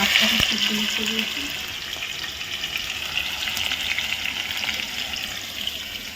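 Potatoes fry in a pan in a home kitchen, giving a steady, close sizzle that runs without a break, with a faint voice briefly at the start.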